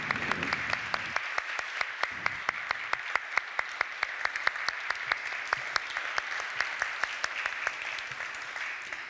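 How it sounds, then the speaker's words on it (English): A warm round of applause for Cecilia Malmström at a university hall event, steady audience clapping with a few distinct, evenly spaced loud claps punctuating it throughout, no talk over it. "a warm applause for Cecilia Malmström for sharing your insights"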